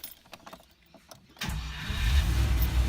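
An old petrol Rover V8 with over 400,000 km cranks briefly, then catches and settles into a loud, rumbling idle close by, with a short quiet rattle before the start.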